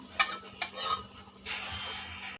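Mashed pumpkin peel fries in oil: two sharp clinks of a utensil against the pan come first, then a steady, close sizzle takes over until a sudden stop.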